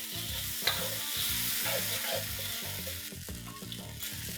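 Honey chilli sauce mixture with pepper powder sizzles in a pan while being stirred, a steady frying hiss broken by rhythmic scraping and knocking strokes of the spoon, close and continuous.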